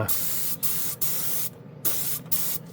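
A cheap Harbor Freight spray gun spraying 2K paint hisses in repeated bursts, about six short blasts separated by quick pauses, loud and close.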